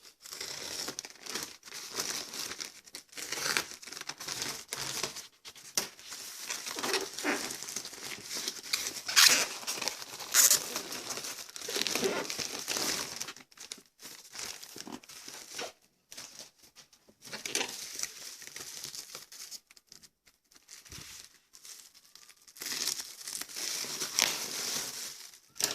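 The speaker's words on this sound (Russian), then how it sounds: "Так, приступим к распаковке." A parcel from China holding a replica Nikon binocular is unwrapped from a plastic garbage bag and bubble wrap. Close, busy crinkling and rustling of plastic runs on and off with brief pauses, and nobody speaks.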